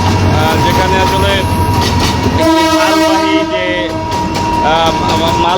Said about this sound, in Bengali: মালবাহী যে ট্রেন সেটি আসলে ছুটে চলছে